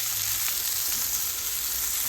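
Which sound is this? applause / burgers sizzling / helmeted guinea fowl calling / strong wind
burgers sizzling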